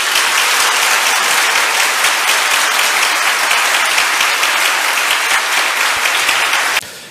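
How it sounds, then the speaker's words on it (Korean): Church congregation applauding in a sanctuary to encourage a departing member after a service announcement, a dense, steady roar of many hands sustained loud for about seven seconds before cutting off abruptly. "우리 격려의 박수 드리겠습니다"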